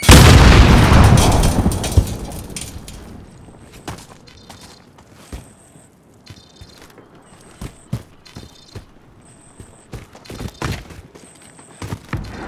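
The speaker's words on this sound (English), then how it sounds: "Throwing grenade." A grenade explodes with a heavy, loud boom that decays over a couple of seconds in Call of Duty: Modern Warfare, followed by scattered footsteps, clanks and game effects.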